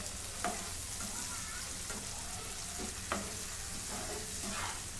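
Green spice paste of chili, coriander, mint, ginger and garlic roasting in a pan for egg hariyali, a low steady sizzle with a few soft spoon scrapes, fairly quiet and close, without talking.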